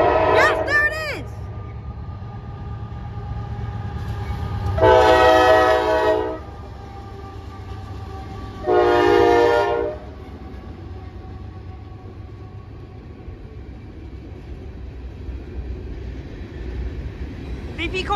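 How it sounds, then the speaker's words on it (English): A Union Pacific coal freight train rumbles steadily past while two long, loud horn blasts sound in turn, the second shorter than the first, with a brief voice at the start. "VP Coal Train."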